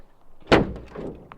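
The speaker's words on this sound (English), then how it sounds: "So we're gonna see if this hood closes" Carbon fiber car hood pushed down during installation, one sharp, close thud followed by a faint rattle as it fails to latch.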